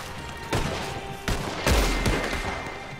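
Several gunshots ring out in the Western video game Red Dead, sharp broadband cracks at irregular intervals with a heavy low boom on the loudest, over a steady ambient wash.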